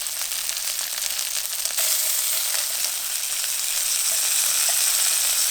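Chicken and halved broccoli frying in oil in a pan make a bright, steady crackling sizzle up close. The sound grows slightly louder partway through and runs without any talk.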